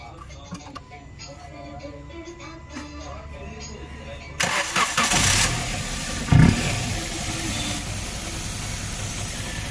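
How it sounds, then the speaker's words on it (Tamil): A Maruti Suzuki car engine, just refitted after head work, cranks and catches partway through, then settles into a loud, close idle with a sharp rev bump, after quieter workshop ticking and clatter. "இப்போ ஸ்டார்ட் பண்ண போகிறோம்"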